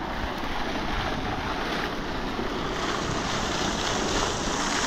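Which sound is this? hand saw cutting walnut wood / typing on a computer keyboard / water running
water running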